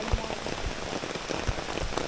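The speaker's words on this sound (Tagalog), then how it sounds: "Sobrang lakas ng ulan dito." Heavy overnight rain pours down outdoors, a dense, steady hiss of falling water punctuated by louder individual drips and splats on nearby surfaces.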